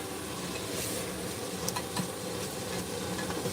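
Onion frying in a pan gives a steady, faint crackling sizzle with a few small pops, close and unbroken, no talking.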